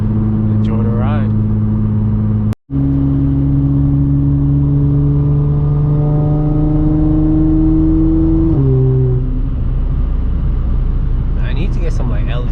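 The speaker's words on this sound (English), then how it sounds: "I'll let you guys enjoy the sounds of the supercharger, exhaust, maybe a little bit of wind too" An Audi S4 B8.5 with AWE exhaust and test pipes, supercharged, heard from inside during a normal drive: a steady engine drone and supercharger whir hold through acceleration, with a gear-change drop near the end and some wind noise.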